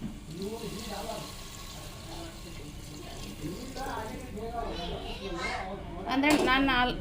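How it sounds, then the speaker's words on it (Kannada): Water pours steadily into a pulao pot of rice and masala, a continuous splashing fill that grows fuller and louder toward the end, with voices talking faintly in the background. "ನೀರು ಹಾಕೊಂಡ್ರಿ"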